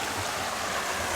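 Cold creek water rushing steadily past a waterfall, a close, loud, continuous broadband wash with no breaks and no voices.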